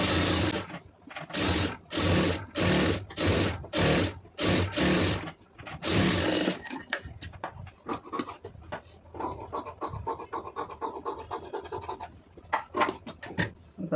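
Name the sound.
sewing machine stitching sleeve lining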